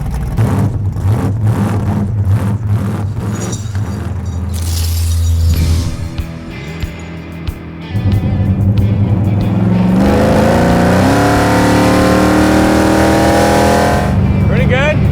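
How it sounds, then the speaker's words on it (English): Race car engine at an ice drag racing event, loud revving and accelerating with rising pitch sweeps, a brief lull midway, then a sustained roaring pass, with voices talking over it. "let's go ice racing"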